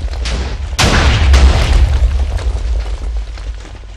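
Massive TNT detonation in Minecraft, a loud deep booming roar that bursts in after a moment and rumbles on continuously, with layered blasts fading slightly toward the end.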